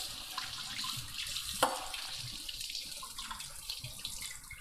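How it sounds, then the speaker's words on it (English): A kitchen tap runs steadily while a knife is rinsed after cutting fish, the water hissing into the sink at low level with one brief splash as the blade passes under the stream. "Wash your knife."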